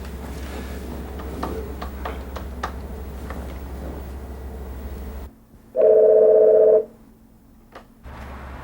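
A telephone gives one steady electronic tone lasting about a second after a quiet pause, following a stretch of faint room noise and soft handling clicks.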